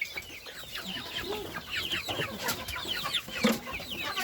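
Backyard chickens cluck and squawk close by, a busy, uneven chatter of several birds as a rooster harasses a white hen, with a few sharper calls standing out.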